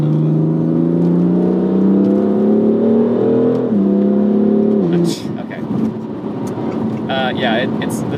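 A BMW M4 Convertible on wet backroads pulls with a rising engine note, drops pitch as the throttle lifts, then lets out scattered exhaust pops and crackling burbles.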